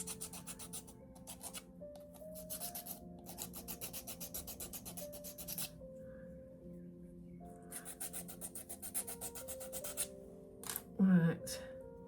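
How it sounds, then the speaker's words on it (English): Small rough nubs on book nook kit pieces are rubbed and filed off, giving soft repeated rasping strokes in bursts with short pauses, close but quiet, with a brief louder knock near the end. "Okay, they got pimples, so I might rub them off."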